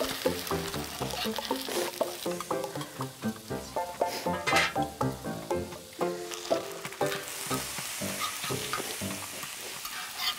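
Food sizzles and fries in a pan over a rural kitchen stove, with busy crackling pops and a utensil stirring and scraping repeatedly, close and fairly loud throughout.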